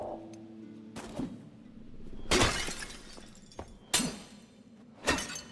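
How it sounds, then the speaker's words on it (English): Clay pots smash in a video game, four sharp shattering crashes spaced about a second apart, each a bright, loud break that quickly decays. "You think it's worth smashing all of these pots?"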